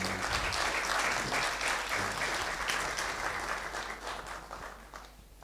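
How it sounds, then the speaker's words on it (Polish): An audience at a plebiscite awards gala applauds loudly and continuously, a dense wash of many clapping hands that fades slightly toward the end. "A ja proszę państwa o brawa."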